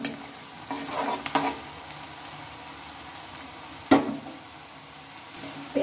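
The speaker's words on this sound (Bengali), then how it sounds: "বারবার নেড়ে নিতে হবে, না হলে পেঁয়াজগুলো দেখা গেল এক দিকটা পুরো যাবে আর আরেক দিকটা ভালো করে ভাজা হবে" Onions fry in a pan being turned, a steady sizzling hiss broken by a few louder scraping stirs near the start and midway, close up with no talk.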